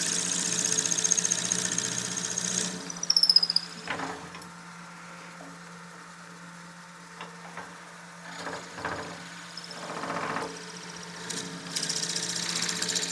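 Drill bit in a lathe tailstock quill boring into a pen blank, a steady motor drone with intermittent grinding bursts and scraping as the bit feeds in, moderately loud and close.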